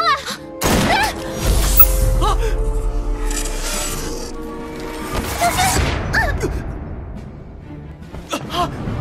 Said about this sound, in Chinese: 我开枪了！